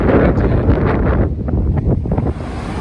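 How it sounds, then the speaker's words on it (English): Strong wind buffets the microphone on Uxbridge Road in Ealing, London, with a loud, continuous low rumble and roar, no voices. "It's very windy today"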